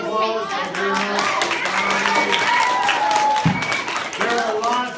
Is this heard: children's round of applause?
yes